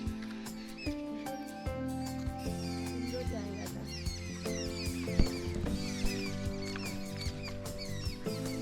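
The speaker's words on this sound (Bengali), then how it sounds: "বিভিন্ন পাখি ডাকছে কলকাতার দিকে তো এইসব ডাক শোনাই যায় না" Assorted birds chirp and twitter in quick, scattered bursts at the foot of a hill in Purulia in winter, fairly faint, over a steady tonal hum in the background.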